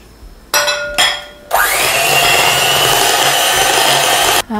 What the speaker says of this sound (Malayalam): ഇത് ജസ്റ്റ് ഒന്ന് ബീറ്റ് ചെയ്തെടുക്കുക.